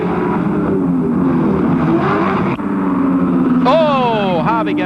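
Holden Commodore race cars at the 1986 Bathurst 1000 roar up Mountain Straight toward Bridgestone Corner, engines droning loud and steady with a rising rev sweep near the end, heard under continuous commentary.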